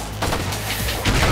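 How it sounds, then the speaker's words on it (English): Gunfire from the Xbox video game Enter The Matrix comes as a dense, loud burst of rapid shots and booms over about a second, with continuous game noise underneath. "Someone shoot now."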